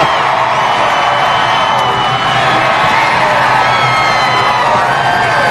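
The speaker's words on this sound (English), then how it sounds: "we know what those fans were cheering for as Carl pulled down him onto that start-finish line" Race fans in the grandstands cheer at the finish of a NASCAR Nationwide race at Charlotte, a loud, continuous roar of crowd noise with scattered whoops, steady and distant-sounding across the whole stretch.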